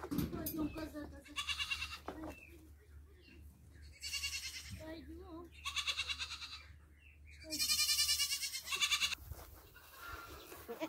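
A young goat bleats repeatedly at close range, several loud, wavering calls separated by short pauses, while a person's voice is heard in between.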